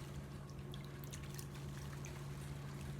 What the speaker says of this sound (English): I'm going to continue swishing it around in the water until all the soil comes off.